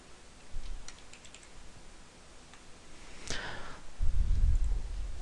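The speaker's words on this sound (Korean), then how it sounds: "휠 버튼을 더블 클릭해서 따닥 클릭해서" A computer mouse wheel button clicked in quick double clicks while drafting in AutoCAD, giving sharp, close clicks over faint room noise, with a low thump near the end.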